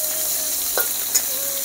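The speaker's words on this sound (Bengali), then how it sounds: "এখন সবগুলো আমি হালকা ভাজা করে নিচ্ছি।" Dried hilsa fish coated in turmeric fries steadily in hot oil in a home kitchen, giving a continuous close sizzle with a couple of brief stirring scrapes.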